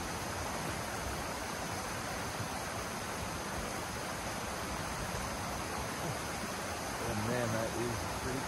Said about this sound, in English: waterfall right here. It's beautiful.